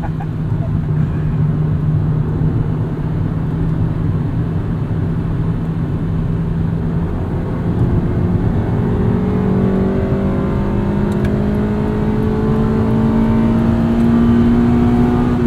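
A 1999 Honda Civic Si engine pulls steadily through the gears and climbs into VTEC, a loud, continuous rising drone heard from inside the cabin, with a brief dip between gears before revving higher again.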